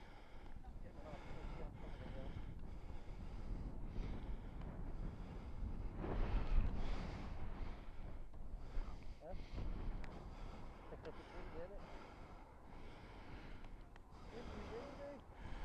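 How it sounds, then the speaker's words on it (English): Wind gusts buffet the microphone on a motorbike ride, a steady low rumble swelling louder around the middle, with a brief voice heard in the roar. "Windy, windy."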